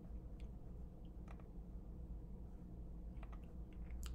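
Soft keystrokes on a Mac computer keyboard tap out a short burst of typing, a few scattered clicks over a quiet room hum.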